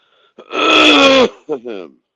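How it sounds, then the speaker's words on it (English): A single strained, raspy throat-clearing rumble up close, followed by a short voiced grunt, loud against near silence. "Trying to clear my throat over here."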